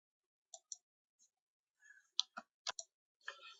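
Computer mouse clicks while building a chart in a spreadsheet, a handful of faint, crisp clicks scattered irregularly across near silence.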